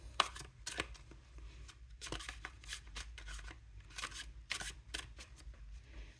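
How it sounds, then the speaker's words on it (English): Tarot and oracle cards shuffled by hand in a series of quick riffling, flicking bursts with short pauses between them, close and fairly crisp, no talking. "I'll give it a little bit of a shuffle."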